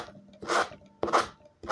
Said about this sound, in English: It's a sanding block. All you do is sand your edges,